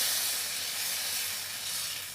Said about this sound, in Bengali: কড়াইটা গরম করে এক হাতা দিয়ে দিলেই হবে